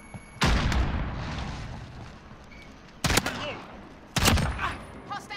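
A grenade explodes in a Call of Duty Modern Warfare gunfight, with a heavy boom near the start and two more sharp blasts of gunfire later, each followed by a rumbling decay, loud and close.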